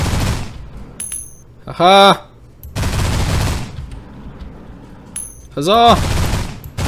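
Gunfire from a weapon in the space game Destination Sol, loud booming bursts repeating in a steady cycle with bright tonal zaps between them, as a voice exclaims briefly.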